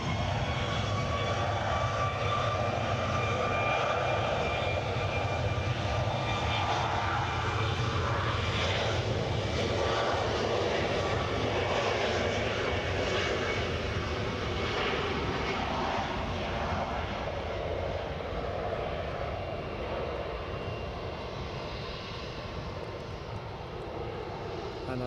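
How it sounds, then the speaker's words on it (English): A SunExpress airliner bound for Antalya departs Edinburgh airport, its jet engines producing a loud, sustained roar that fills the whole stretch and fades slightly toward the end. "Right, the SunExpress is off to Antalya."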